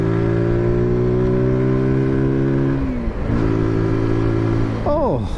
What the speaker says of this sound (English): that exhaust's got a nice little growl to it as well